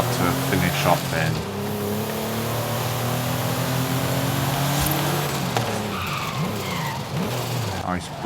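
A race car in the Forza Horizon 5 video game skids and slides with loud tire squeal over a revving, accelerating engine, continuous and close, with a voice talking over it.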